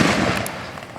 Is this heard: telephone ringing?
no